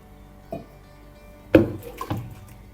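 Water poured into a pumpkin curry base seasoned with turmeric and salt, heard as a short faint splash, then a louder pouring burst and a couple of smaller splashes, close by with no talk.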